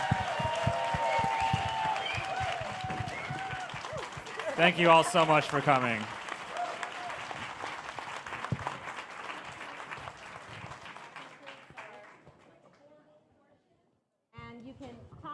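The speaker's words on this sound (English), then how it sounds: "Let's give these candidates a big round of applause." Audience applause for candidates at a Virginia 11th Congressional District Democratic candidate forum, steady clapping from a crowd that runs under a speaker's voice before dying away, with a short burst at the end.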